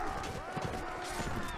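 Many horses galloping together in a crowded Mount and Blade Warband battle, a dense, continuous thunder of hoofbeats close by, with voices talking over it.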